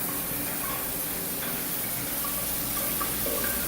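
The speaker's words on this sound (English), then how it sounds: "Water running from the ceiling." Water pours steadily from a ceiling fixture in a truck stop shower, a continuous close hiss of spray with no talking over it.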